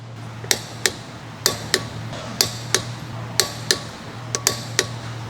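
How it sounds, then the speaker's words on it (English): A large torque wrench with a 19mm socket tightens the lug bolts on a Ford Fusion front wheel, giving a series of sharp, evenly spaced metallic clicks over a low steady hum. "Using the large torque wrench with the large 19mm short socket, torque the left front wheel lug bolts."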